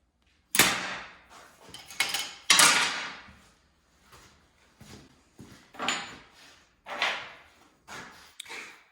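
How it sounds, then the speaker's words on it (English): Sharp metallic hammer strikes on a center punch against a steel table leg, several distinct hits spaced irregularly, the first few loudest and ringing, later ones softer, close up with no talk. "Okay, so we'll center punch these"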